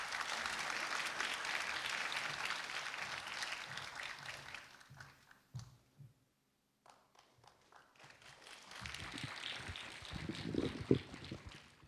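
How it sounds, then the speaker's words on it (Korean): Applause from an audience at a mechanical engineering lecture at Dankook University rises, fades to near silence, then swells again, moderately loud and without talk. "여러분 큰 박수 보내주시기 바랍니다."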